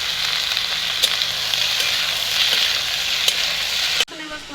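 Tomatoes fry lightly in a pan for paneer masala, a loud continuous sizzle with a few faint stirring clicks, cut short by a sudden drop near the end.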